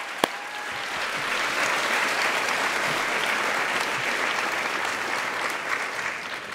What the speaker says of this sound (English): Another round of applause, I would say, for this amazing talent.